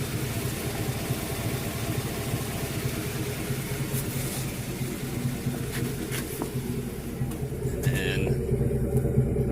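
A 2015 Chevrolet Silverado with an MBRP bolt-on exhaust idles with a steady, deep, low rumble, and someone talks over it at moderate level.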